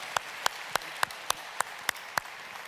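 Applause at the EMC World 2015 keynote, heard as a sparse run of about nine evenly spaced claps over a soft background hiss.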